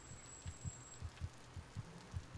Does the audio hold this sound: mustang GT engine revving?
no